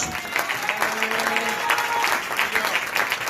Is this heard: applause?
yes